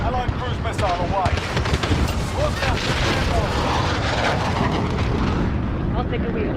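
An allied cruise missile strike in Call of Duty: Modern Warfare, with a roaring rush of jet noise followed by heavy booms and rumbling blasts, layered under in-game voice callouts.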